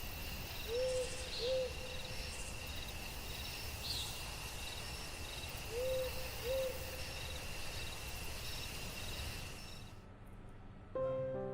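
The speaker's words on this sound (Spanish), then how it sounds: "el sonido de los grillos le hizo abrir los ojos a la luz del crepúsculo." Steady crickets chirp through a quiet night scene, with a soft owl-like hoot repeating twice in pairs before the sound cuts off.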